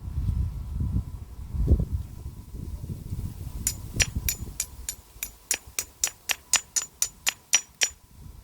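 Stone being knapped into an end scraper, with a low rumble of handling at first, then a rapid series of about a dozen sharp, ringing percussive clicks in a steady rhythm, close and crisp.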